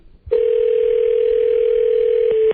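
A steady electronic telephone tone sounds loudly and continuously for about two seconds, briefly dipping near the end.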